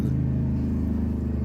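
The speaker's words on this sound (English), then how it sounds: "I'm right by a main road, so you have to excuse the traffic" Traffic on a main road just outside a window, a low, continuous rumble of engines close by that swells slightly without letup and carries no voices.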